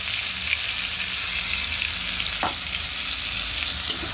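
Ridge gourd frying with ground spice paste in a pan, a steady, close hiss of sizzling oil with a single brief scrape of stirring midway.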